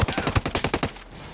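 Rapid automatic gunfire in the tactical shooter Ghost Recon Breakpoint, a tight burst of about a dozen loud, evenly spaced shots that cuts off abruptly into quiet.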